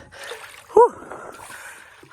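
A person jumps into deep water at a lake, making one short, sharp splash up close. Faint background chatter and ambient noise come before and after it.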